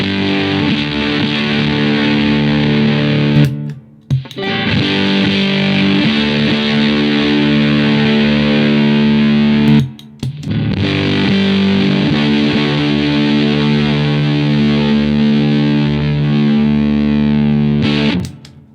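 An electric guitar pushed through fuzz pedals, with volume at about three o'clock and fuzz near four, rings out in loud, saturated sustained chords, cut by two short pauses.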